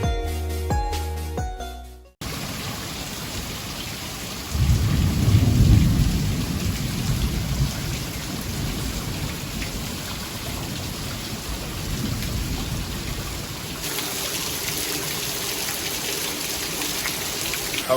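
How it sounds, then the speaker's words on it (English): Steady heavy rain hissing over a surface while a deep roll of thunder rumbles through, preceded by a brief burst of music. "Just had a really bad thunderstorm come through"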